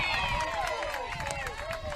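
A softball crowd at a CCCAA Super Regionals game between Cypress and Palomar cheers after a strikeout, with cheering and whistling voices rising over steady crowd noise, heard alongside talk.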